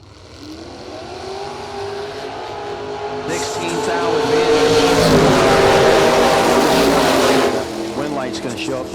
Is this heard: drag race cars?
yes